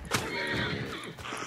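A horse neighs and whinnies in the video game Hunt Showdown, a single loud, close call lasting about a second with faint hoof clops beneath.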